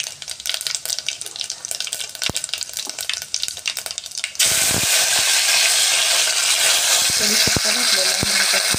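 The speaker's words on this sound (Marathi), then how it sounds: "तेल आपलं गरम झालेलं आहे. आता त्याच्यामध्ये मी मोहरी घातलेली आहे." Mustard seeds drop into hot oil in a kitchen pan, and after a few seconds of quieter stirring and clinks a sudden loud, continuous sizzle takes over and holds to the end.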